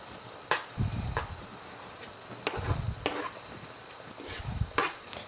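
Onions and scotch bonnet peppers going into a pan of cooking tomatoes for shakshuka, giving low sizzling and frying with repeated stirring and spoon scrapes in a loose rhythm, close and moderately loud, no talking.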